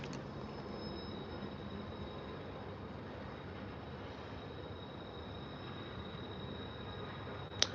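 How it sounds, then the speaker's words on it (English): A train rumbles steadily in the distance with a faint high whine above it, quiet and continuous, ending in a brief sharp click. "I haven't heard the train get this close before."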